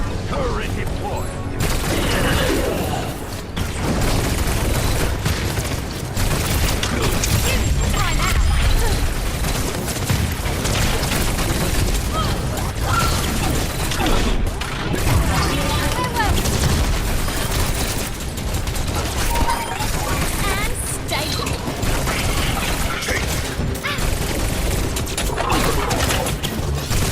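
An Overwatch deployed turret fires amid dense, loud, continuous gunfire and crashing battle effects, sustained throughout with brief gaps, and voices briefly heard in the mix.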